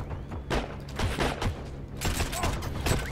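Rapid bursts of grease gun fire in a first-person shooter battle, loud and close, clustering in several volleys amid mechanical clatter, with a voice talking briefly over the shooting.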